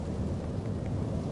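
A video game thunderstorm rolls as a low continuous rumble with a wash of steady rain, moderately loud and without any voices.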